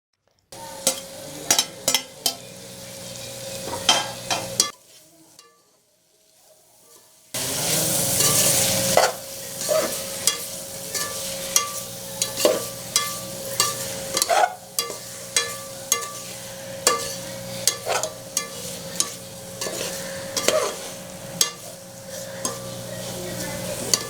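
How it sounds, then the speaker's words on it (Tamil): Ground pepper, fennel and poppy seed paste being stirred and sautéed in a pan for goat intestine curry, with a steady sizzle, repeated scraping and clinking of a spoon against the pan, and a short pause near the start. "மிளகு, சோம்பு, அரைத்து வைத்த கசகசா சேர்த்து வதக்கணும்."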